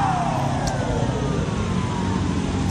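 An ambulance drives past on a street. Its engine hums and a falling siren tone fades as it moves away, fairly distant and moderately loud.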